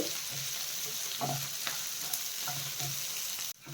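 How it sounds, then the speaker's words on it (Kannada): Chicken chops fry in a pan with a soft, continuous sizzle, with a few light scrapes and clinks from stirring, before a brief sharp drop near the end. "ಚಿಕನ್ ಸಾಪ್ಸು ಇದೆಲ್ಲ ಚೆನ್ನಾಗಿ ಕಂದು ಬಣ್ಣ ಬರೋ ತನಕ ಫ್ರೈ ಮಾಡ್ಕೋಬೇಕು"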